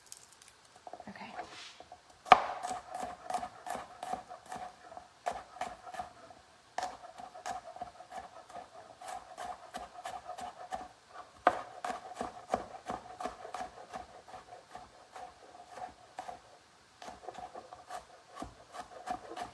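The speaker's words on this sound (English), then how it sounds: "All right, get that nicely and finely minced." Garlic cloves minced with a knife on a cutting board, a long run of quick sharp chopping taps in steady bursts with brief pauses, close and clear.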